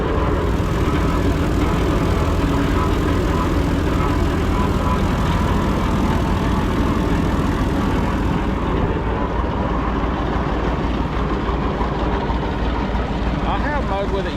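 Tractor-driven flail mower running on a Massey Ferguson 245, giving a steady, loud, dense engine drone and spinning whir that holds constant throughout.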